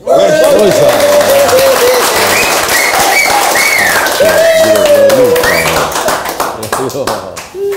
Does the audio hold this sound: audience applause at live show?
yes